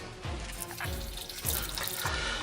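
Water pours into a container for a ration pack vegetable stock drink, a steady splashing stream with a few gurgling surges, close and alone.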